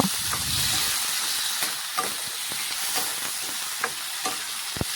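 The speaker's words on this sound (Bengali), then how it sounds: "এখন নাড়াচাড়া করে ভালোভাবে মশলার সাথে মিশিয়ে নেব" Broccoli with salt and spice mix sizzles in a pan as it is stirred, a steady frying hiss with several distinct spoon scrapes and taps against the metal.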